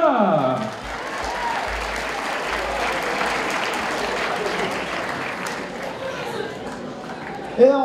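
An indoor audience at a cosplay show bursts into loud, continuous applause and cheering for a cosplayer, with whoops and a host's voice over the crowd noise.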